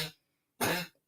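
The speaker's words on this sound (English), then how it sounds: "I'm sorry about my choking dog." A dog chokes and coughs in two harsh, raspy bursts separated by a short silence, close and fairly loud.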